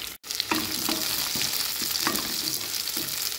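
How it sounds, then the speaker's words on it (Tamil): Small onions sizzle loudly in a hot pan while being sautéed until golden, with a steady frying hiss and several soft stirring scrapes, close and without talk. "இப்போ சின்ன வெங்காயத்தை கோல்டன் கலர் வர அளவுக்கு நம்ம வதக்கி விட்டுக்கலாங்க."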